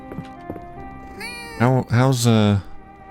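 A cat in the video game Fields of Mistria meows several times in quick succession, short then longer drawn-out calls, over a faint musical background.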